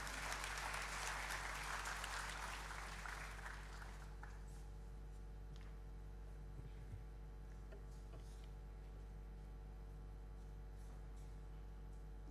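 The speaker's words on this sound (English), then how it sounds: "May we welcome Professor Banerjee with a generous round of applause." An audience at a university induction ceremony at IIT Kharagpur gives a round of applause, dense clapping for about four seconds that fades into a quiet hall with scattered faint sounds.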